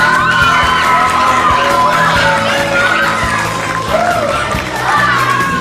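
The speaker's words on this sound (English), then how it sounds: "So please give them a round of applause." Loud, continuous crowd noise of clapping mixed with cheers, whoops and children shouting at a Cub Scout pack Court of Honor, swelling and holding for several seconds with a brief dip near the end.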